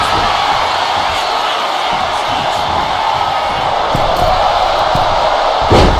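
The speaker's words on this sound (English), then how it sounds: "This capacity crowd is really willing these competitors on" A packed arena crowd roars and cheers in the WWE 2K25 wrestling game during a SmackDown match, a steady, loud wall of crowd noise that fills the whole stretch and swells slightly near the end.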